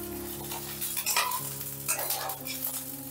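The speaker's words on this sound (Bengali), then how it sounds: "দেখো ডিমটা ভালো মতো ভাজা হয়ে গেছে।" An egg fries in oil in a pan, with a soft, steady sizzle under a low background hum and a few brief scraping and stirring bursts.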